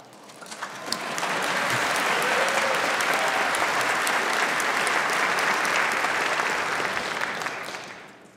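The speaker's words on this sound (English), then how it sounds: "It's helpful when you clap." A crowded legislative chamber during a State of the State address breaks into applause, building quickly from a few claps into a loud, dense, even ovation that holds steady and then begins to fade.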